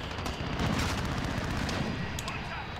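Rapid bursts of M4 gunfire in Call of Duty: Modern Warfare crackle over a dense, constant background of battle noise, sharp shots repeating throughout.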